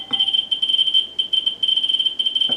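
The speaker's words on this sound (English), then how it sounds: "You can hear the meter going off like crazy there." Radiation meter alarm sounding beside a uranium glass bowl: a loud, high electronic tone pulsing rapidly and almost continuously, with brief gaps, alone and with no talking.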